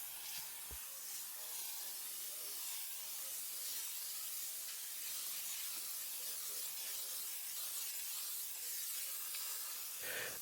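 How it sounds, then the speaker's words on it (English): Steamer spraying during smoke removal inside a car, a steady hissing jet of steam held continuously and close, with a faint thump near the start. "With using the steamer, it's a great little helper"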